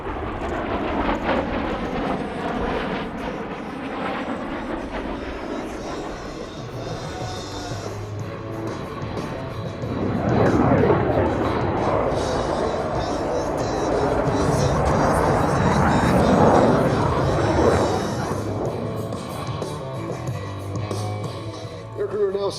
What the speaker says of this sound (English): Approaching ship center, Lieutenant Jakovich will roll the aircraft inverted and reduce the power to idle